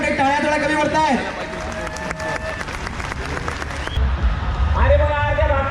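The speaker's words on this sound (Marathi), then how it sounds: "जोरदार टाळ्या म्हणजे टाळ्या थोड्या कमी पडतायत" Audience clapping at a Marathi folk art festival, the Sanskruti Art Festival, comes in as a rippling burst under an amplified voice and musical tones, swelling briefly and then trailing off.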